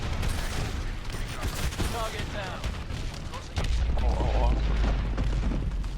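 Rapid bursts of gunfire and heavy booms from the futuristic shooter Call of Duty: Advanced Warfare, dense and continuous, growing louder partway through, with someone talking over the action.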